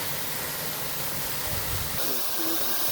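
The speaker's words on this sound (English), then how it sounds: "this is just a gorgeous waterfall" A waterfall roars as a dense, steady rush of falling water, continuous and fairly loud with no breaks and no voices over it.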